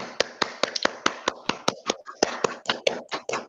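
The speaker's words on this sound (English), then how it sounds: "If everyone wants to clap, you're welcome to unmute and clap quickly." An online audience claps over a call, with sharp, uneven hand claps and taps arriving in a quick scattered burst, close and crisp with no talking.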